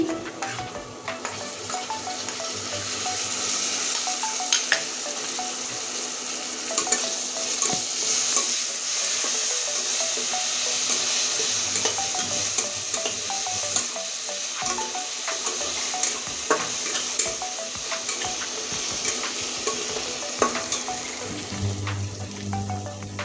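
Garlic paste, onions and garlic frying together in a pan for a Bengali egg curry with potatoes, giving a steady loud sizzle with stirring and scraping throughout, close up and alone.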